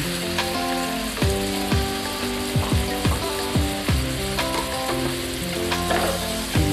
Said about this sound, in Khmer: ដល់ពេលយើងឆាខ្ទឹមបារាំងចូលជាតិឆ្អិនអស់ហើយយើងចាប់តាមដាក់ពង មាន់ដែលយើងចៀនរួចចូលចា